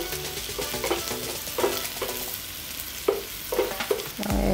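Eggs saute in three spoons of oil in a pan for Malaysian-style fried egg in soya sauce, a steady close sizzle broken by occasional stirring scrapes, with no talking.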